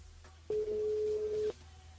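Telephone ringback tone on a call placed to a listener from a French-language radio station: a single steady electronic tone lasting about a second, starting and stopping abruptly, over faint line hiss.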